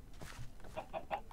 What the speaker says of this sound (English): Yes. Useful chickens.